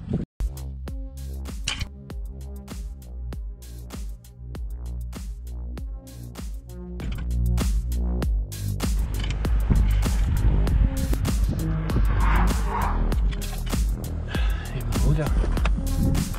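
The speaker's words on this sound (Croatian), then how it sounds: "Dam gas malo jače, samo da vidim koliko ulja ima." A Nissan 200SX engine revving on a roadside stop, pulsing steadily and close, then swelling louder and rougher about halfway through and holding there.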